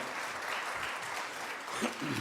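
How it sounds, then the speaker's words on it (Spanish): Enthusiastic applause from a church congregation fills the whole stretch, a dense steady wash of clapping with faint voices and a cheer rising near the end. "Fuertes aplausos."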